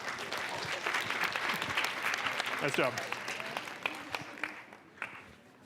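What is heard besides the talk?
audience applause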